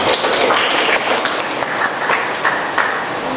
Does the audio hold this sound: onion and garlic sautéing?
no